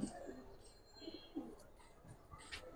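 Domestic fancy pigeons give soft, faint, repeated coos, several low throaty calls spread across a few seconds, with someone talking quietly in the background.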